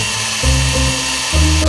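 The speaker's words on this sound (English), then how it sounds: "Now I gotta come back and hit it with a 3/4 inch bit." A power drill with a 3/4 inch bit runs loudly and continuously nearby, its motor pitch dipping briefly twice as the bit bites into material.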